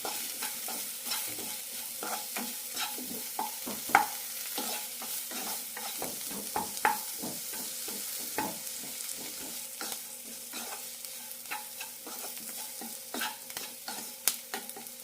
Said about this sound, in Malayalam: ഇനി ഇതിലേക്ക് കിഴങ്ങിടാം. ആവശ്യത്തിന് ഉപ്പ് കൂടി ഇടാം. നന്നായി മിക്സ് ചെയ്യാം.